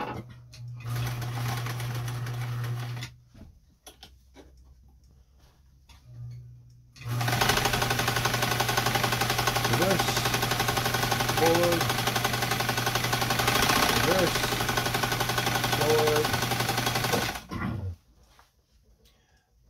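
A Lincoln sewing machine stitching in loud, steady mechanical runs with a constant motor whir, a short burst, a pause and then a long continuous run before it stops. A voice is heard faintly during the stitching.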